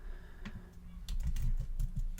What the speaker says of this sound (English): going to start typing it in